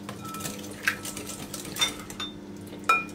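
A utensil stirs sugar, vanilla and mahlab for Easter bread dough in a bowl, giving a few light metallic clinks and scrapes against a low background hum.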